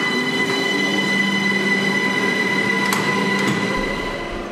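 A Vienna S-Bahn train runs past with a steady rolling rumble, some faint wheel squeal and brief high clanks, loud and close throughout before easing slightly at the end.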